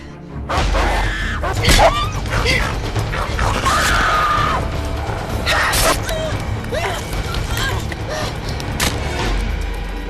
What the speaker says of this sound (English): she smashed a car window and climbed inside